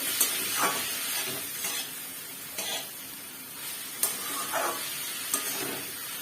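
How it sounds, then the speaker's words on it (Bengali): Shrimp frying in a pan make a moderate, close sizzle, broken by several short bursts of stirring and scraping, with no talking. "আমার চিংড়ি মাছটা ভাজা হয়ে গেছে"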